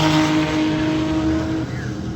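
A Lexus drag racing car launching at a drag strip, a loud close engine drone holding a steady pitch for most of the clip before easing off, with no voices.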